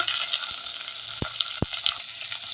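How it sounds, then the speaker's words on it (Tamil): Onions sizzle and fry in hot oil in a clay pot, a steady close crackling hiss broken by a few sharp knocks of a stirring utensil against the pot. "நல்லா வெங்காயம் போட்டு பொன்னிறமாக நல்லா வதங்கி வரட்டும்."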